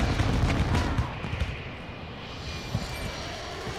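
A VTOL aircraft strike in Call of Duty, a loud rumbling barrage of artillery-like fire and engine roar that starts strong, then settles into a steady churning din with scattered blasts and no voices.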